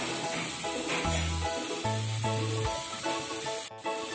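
Grated coconut sautés in a non-stick pan for carrot ladoo, giving a steady soft sizzle and hiss with faint scraping and stirring, broken by a couple of brief low hums and a quick clatter near the end.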